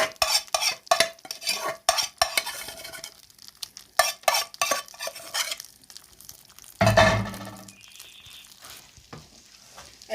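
Orzo being stirred in a hot pan with chicken gizzards and kebab: repeated close scraping strokes of a utensil over a sizzle, with a louder burst of stirring near the end.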